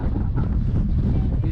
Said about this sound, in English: The wind picked up big time on us.